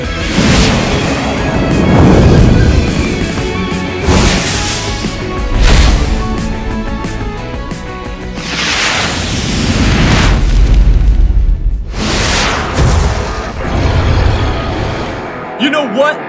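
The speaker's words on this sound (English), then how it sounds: "Watch out for the fireballs!" Cartoon dragon fireballs exploding in a loud animated chase, with repeated booming blasts layered over dramatic music and character voices.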